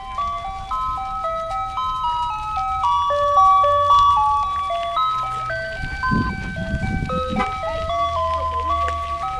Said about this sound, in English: the ice cream trucks are so weird because they don't play the regular ice cream truck music.